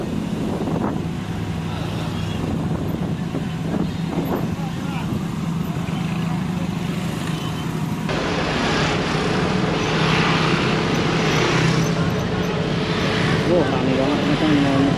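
A tandem roller compacts fresh asphalt mixed with plastic waste while an asphalt finisher works nearby on a street paving job, giving a steady engine rumble with wind noise that grows louder and busier halfway through, with voices in the background.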